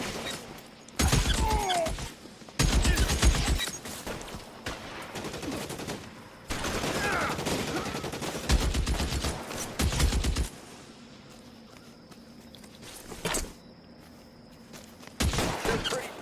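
Bursts of automatic gunfire crack through an L.A. Noire shootout, loud clustered volleys separated by brief lulls and scattered single shots, with no talking.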